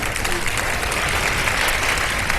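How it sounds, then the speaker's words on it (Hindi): A studio audience claps on a live Ramadan iftar television show, a loud, close, continuous wash of applause with no break. "मजा नहीं आ रहा भाई तालियों में"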